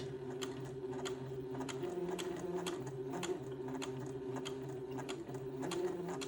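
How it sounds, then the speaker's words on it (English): A sewing machine runs slowly around a curved collar edge with a steady mechanical hum and regular rapid needle ticks. It is close and continuous, with no speech. "Now I'm going to sew fairly slowly and follow this little curved line around the edge."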